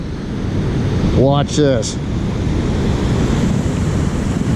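Big ocean waves surge over rocks at a west-facing beach, a loud continuous roar with heavy wind buffeting the microphone, and someone speaks briefly over it.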